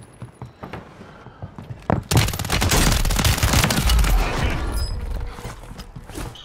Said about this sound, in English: We got a mortar strike on us.